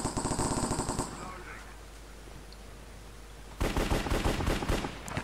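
Rapid automatic gunfire bursts in a Minecraft Cops and Crims shooter match, a loud rattling volley at the start, a quieter stretch, then another dense burst of shots near the end.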